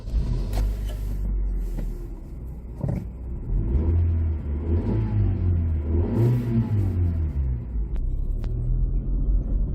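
A 1999 Honda Civic MB2 1.4i automatic revs its engine, a steady low rumble swelling into repeated rising and falling revs, loud and close, with no voices.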